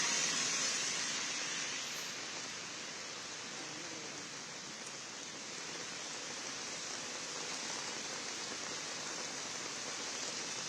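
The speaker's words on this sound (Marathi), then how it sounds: "मुंबईमध्ये आणि उपनगरांमध्ये पावसाला सुरुवात झालेली आहे" Morning monsoon rain falls over Mumbai as a steady, soft, even hiss of drops on surfaces, slightly louder at the start and otherwise unchanging, with no voices.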